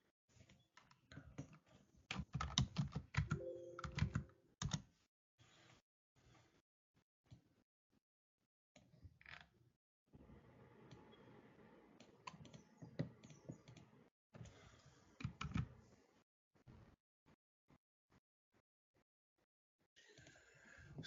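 Computer keyboard keys tapped in a Linux terminal session, coming in quick bursts and scattered single presses with pauses between, close and fairly quiet, with no talking.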